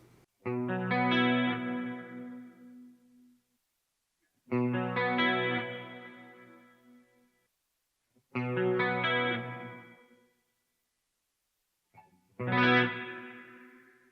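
Four separate clean electric guitar chords through a Line 6 Helix spring reverb, each struck and left ringing with a metallic, splashy reverb tail that fades into silence before the next strum.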